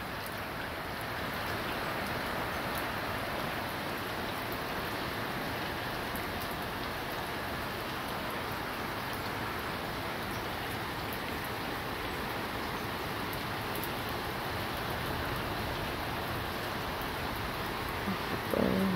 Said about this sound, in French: Bon, il pleut toujours autant